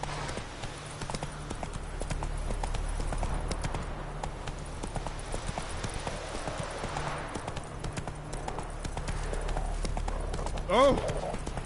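Horse hooves from The Witcher 3 video game beat out a steady galloping clip-clop throughout, close and continuous, with a brief vocal exclamation near the end.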